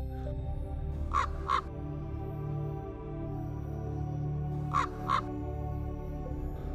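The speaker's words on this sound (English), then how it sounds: "By cawing, they inform each other of the presence of food." Ravens from a winter flock in Poland's Białowieża forest caw in two quick double bursts, a few seconds apart, sounding fairly distant over a low steady background hum.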